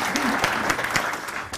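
Audience applause at a congressional town hall meeting, a short burst of clapping from the crowd heard fairly close, with some voices mixed in.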